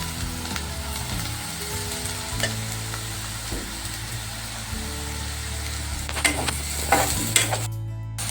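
Chopped onion fries to a reddish-brown in a pan for a Marathi sandgé vegetable dish, giving a steady close sizzle with occasional spatula scrapes and clicks, and no one speaking.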